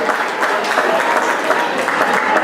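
A crowd at an Ugadi celebration gives sustained, dense applause for the event organizers, a loud, even wash of many hands clapping close by throughout.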